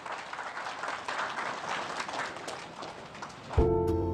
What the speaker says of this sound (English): we want to give a big round of applause to all of you,